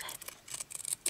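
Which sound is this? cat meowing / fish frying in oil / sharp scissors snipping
sharp scissors snipping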